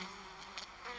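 Honeybees buzz steadily around their hive, a continuous faint insect drone that swells briefly in a few soft bursts, with no voices over it.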